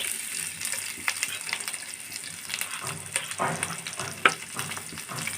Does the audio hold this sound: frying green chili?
yes